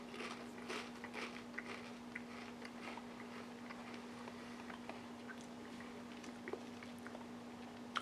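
Crisp crunching of Ghost Pepper, Apple & Pumpkin Hot Honey Pringles chips being bitten and chewed close up, a steady run of small brittle cracks over a faint constant hum.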